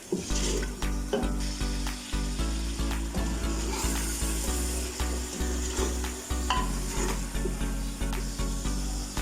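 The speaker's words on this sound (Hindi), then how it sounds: "और इसको अच्छी तरह से भून लेते हैं फिर दोबारा से" Chili, salt and masala fry in a pan for mutton trotters, giving a steady sizzling hiss with stirring clatter over a loud, pulsing rhythmic beat.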